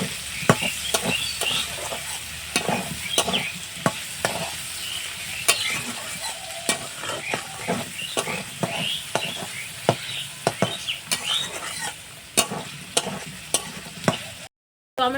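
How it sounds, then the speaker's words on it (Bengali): Potato fried together with chopped onion and tomato in a pan, a continuous close sizzle punctuated by frequent sharp scrapes and taps of a spatula stirring against the metal. "পেঁয়াজ কুচি আর টমেটো কুচিটাও দিয়ে দিচ্ছি আলুর সাথে আমি এটা ভালো করে ভেজে নেব"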